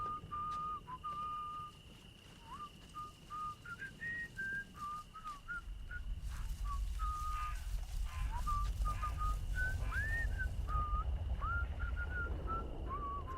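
A character in the video game Atomfall whistles The Wheels on the Bus, a clear, fairly quiet melodic whistle repeating phrases over a low background rumble.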